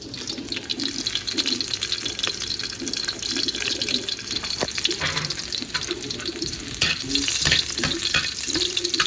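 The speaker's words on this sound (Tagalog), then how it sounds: "ligisa ko na yung ating sibuyas, luya, bawang." Onion, ginger and garlic sauté in a pan with a loud, continuous sizzle and a hissing, watery texture, broken by occasional stirring clinks throughout.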